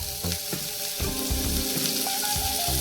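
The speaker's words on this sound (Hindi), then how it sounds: "इसको धीमी आंच में ही हल्का फ्राई कर लेते हैं" Grated ginger and finely chopped green chillies with cumin fry gently in oil over low heat, a steady soft sizzle with a few scrapes and clinks from stirring throughout.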